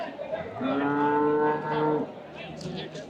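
A cow moos once, a long low drawn-out call lasting about a second and a half, fairly close, with faint background noise after.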